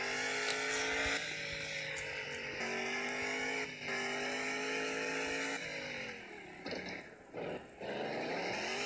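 Video game car engine straining uphill, a loud, sustained motor drone with stepped pitch shifts as gears and revs change, ending in rougher bursts near the finish.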